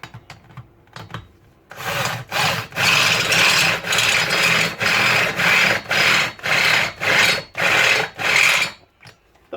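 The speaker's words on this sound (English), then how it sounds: "I've never gone that far down the step drill." A step drill boring through the steel body metal of a Mk V Ford Cortina near a weld, grinding in about a dozen rhythmic loud bursts with short pauses between them, preceded by quieter handling.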